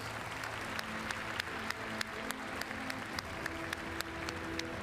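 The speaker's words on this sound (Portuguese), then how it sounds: "uma salva de palmas para todos" An audience at a business talk breaks into steady applause, a dense wash of clapping with a few louder individual claps punctuating it.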